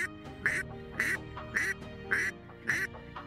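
A duck call whistle mimics quacking at a spring duck hunt, giving six evenly spaced, raspy nasal quacks about half a second apart, fairly faint against a steady background.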